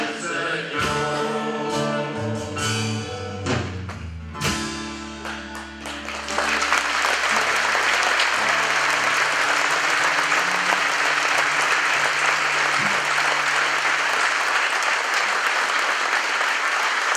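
Church congregation applause for a priest, breaking out after music fades around the midpoint and then sustaining as dense, loud clapping through the remainder.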